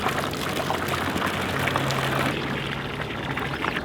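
Water runs steadily from a public drinking fountain in Switzerland, a close, continuous splashing pour with a faint low hum in the background.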